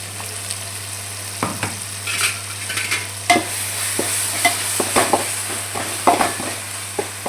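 Ginger garlic paste frying in a hot pan for an egg omelette dish, with steady sizzling broken by repeated scraping stirs of a spoon against the pan, close and clear, with no voices.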